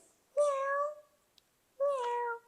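A child imitates a cat's meow twice, each a clear drawn-out mew lasting about half a second, separated by a short silence, close and alone with no other talk.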